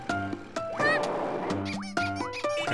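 A rideable duck in Kirby's Extra Epic Yarn gives a run of short, bright, pitched quacks in quick cartoonish bursts over game music.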